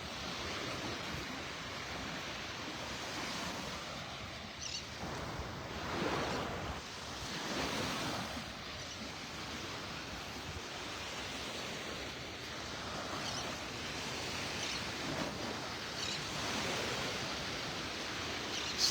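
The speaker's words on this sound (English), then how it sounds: "Just listening to Mother Ocean here singing her lullaby to me" Ocean surf rolls steadily onto the beach at Delnor-Wiggins in North Naples, Florida, a continuous close wash of breaking waves with gentle swells of louder crashes and light wind across the microphone, no voices.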